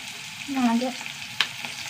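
Shallots and curry leaves frying in a pan, with a steady soft sizzle under stirring, a brief louder scrape or clatter partway through, and no talk.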